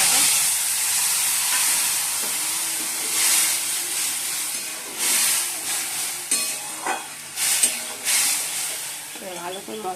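Ginger, green chili, ground cumin, coriander, turmeric and salt get stirred into hot oil in a frying pan, a continuous sizzle broken by scraping stirs, with a voice talking faintly in the background.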